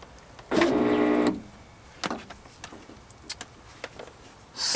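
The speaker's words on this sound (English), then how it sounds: "I'm gonna just try and roll the window all the way up" Power window motor in a turbo D16 Honda Civic runs for about a second as the glass rolls up, a steady whirring hum, followed by scattered small clicks and knocks from the door and window track.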